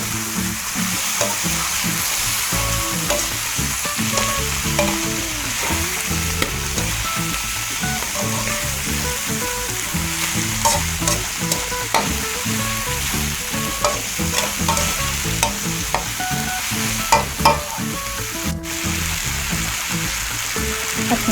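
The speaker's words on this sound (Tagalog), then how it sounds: "Ngayon po ay ilalagay ko na itong pritong isda. Hahaluin lang natin ito." Fried golden pompano gets stirred in a pan of sizzling oil, a loud, continuous frying hiss broken by repeated scraping and knocking from the utensil throughout.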